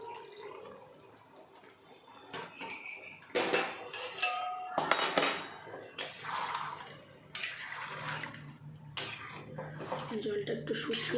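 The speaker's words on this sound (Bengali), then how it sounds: "অল্প করে গরম জল দিয়ে দেবো।" Hot water is poured into a pan of coriander chicken on the stove, with clattering pot and utensil clinks, a splashing pour and sizzling, close by under someone speaking.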